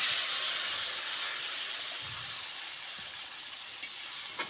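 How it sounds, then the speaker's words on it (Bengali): Water poured into a pan of sizzling tomato and spice masala for a tangra fish jhal sends up a loud, hissing steam burst that slowly fades to a softer simmer, with a couple of faint clinks near the end. "তারপর এর মধ্যে দিয়ে দিচ্ছি পরিমাণ মতো জল"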